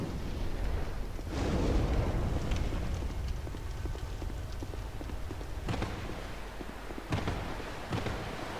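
In the Dark Souls 2 video game, a cauldron is set alight with a rushing fiery whoosh that flares early and settles into a steady roar, with a few dull thumps later amid the game's ambient noise.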